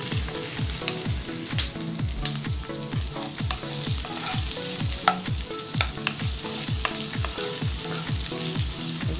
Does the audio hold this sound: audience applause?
no